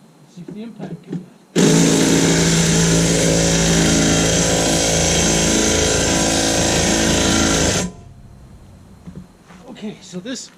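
A Ryobi P261 impact driver spins a car's V8 engine over for about six seconds, a loud whirring, hammering buzz that starts and stops abruptly, with faint talk before and after.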